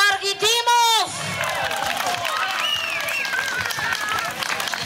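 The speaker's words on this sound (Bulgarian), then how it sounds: "аплодисменти за господин Георги Димов!" Applause and cheering from a crowd at an election campaign rally, steady clapping that follows a short burst of amplified voice and continues for several seconds.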